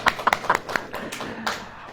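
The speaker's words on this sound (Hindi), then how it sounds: "ताली नहीं बजेगी क्या?" A church congregation claps hands in a brief, uneven burst, several sharp claps up front that soften into a looser patter, moderately close in a reverberant hall.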